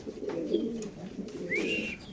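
Racing pigeons cooing in a loft, soft low burbling coos with a couple of brief higher chirps, close and moderately quiet against a faint background murmur.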